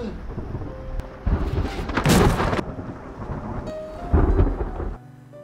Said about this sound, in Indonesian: Kemudian bersamaan dengan suara guntur